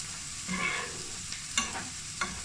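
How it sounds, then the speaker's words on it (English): Chicken jalfrezi curry reducing in a pan gives a soft, steady bubbling sizzle, close and fairly quiet, broken by a few brief stirring taps and a short scrape. "Okay, so this curry is reducing lovely."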